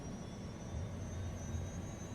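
Lynx naval helicopter in the video game Sea Power, a steady, fairly faint turbine and rotor drone with a thin high whine, unchanging throughout.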